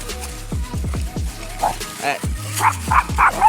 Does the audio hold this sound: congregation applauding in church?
no